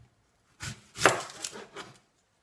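A kitchen knife chops through an onion on a board in a short burst of several crisp, close cuts against near silence.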